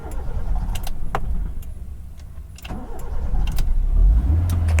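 A CNG-converted car running on petrol cranks with uneven clicks and bursts, struggles, and then its engine catches into a low rumbling idle.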